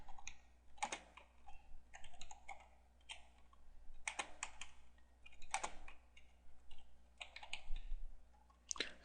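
Fingers typing on a computer keyboard, close and quiet, with irregular bursts of rapid key clicks separated by brief pauses, heard alone without talk.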